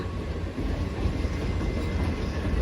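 At Munirabad station a passing train gives off a dense, even rumble and rattle of rolling cars, loud and close throughout the short stretch, with no speech.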